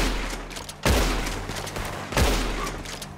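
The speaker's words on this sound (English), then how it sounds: "Stop shooting me." Gunfire from a repeater and shotgun in Red Dead Redemption 2, two loud close blasts about a second and a half apart, each ringing out over a busy game backdrop.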